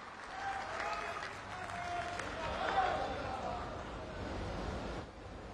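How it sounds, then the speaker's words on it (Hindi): Sustained audience applause fills a ceremonial hall at the Bihar assembly centenary closing ceremony, a dense steady clatter of many hands lasting throughout before tapering off near the end. "जोरदार तालियों से हम सब इनका अभिनंदन करें"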